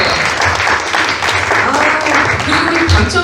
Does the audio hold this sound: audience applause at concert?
yes